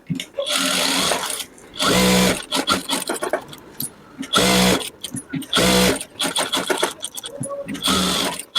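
A sewing machine stitches lining into a blouse, running in loud close bursts with short pauses between them and a mechanical whir that rises and stops repeatedly.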